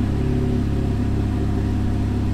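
A Ferrari F430 engine runs steadily at a low, even idle during an e-diff bleed, loud and close with a constant rumbling drone.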